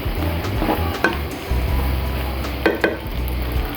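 Pasta with chopped coriander and green chili is stirred in a pan, a soft sizzle with scraping and several sharp clinks of a utensil against the pan.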